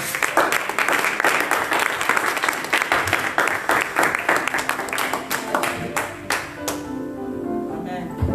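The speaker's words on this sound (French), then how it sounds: "Je vous invite à vous lever, à acclamer le Seigneur pour sa vie." A church congregation applauding in acclaim of the Lord, sustained loud clapping from many hands that thins out toward the end, with a voice speaking over it.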